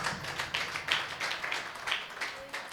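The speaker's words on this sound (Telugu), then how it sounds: "ఎత్తు గట్టిగా చప్పట్లు కొట్టండి ఒకసారి" A church congregation at a Sunday worship service claps together, a dense, steady round of applause lasting a few seconds with a rhythmic pulse, fairly close and filling the room.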